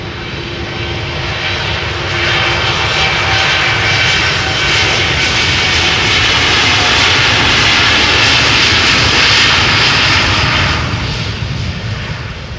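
American Airlines jet engines spool up for takeoff at Amsterdam Schiphol Airport, a loud, sustained roar that swells and holds steady with a broad rushing whine, heard from nearby with no voices.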